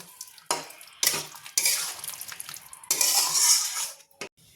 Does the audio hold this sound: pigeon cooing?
no